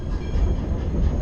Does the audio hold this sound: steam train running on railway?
yes